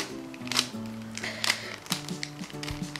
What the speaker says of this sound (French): Alors pour commencer, je vais mélanger le cube.